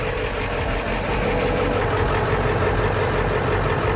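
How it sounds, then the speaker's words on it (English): A 2000 Ford F350 pickup with a Navistar engine idles close by in a steady, loud, even rumble with no talking. "it's been idling for a few minutes"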